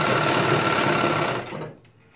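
A sewing machine runs steadily as it stitches a salwar, a continuous close whirring hum that slows and cuts off near the end.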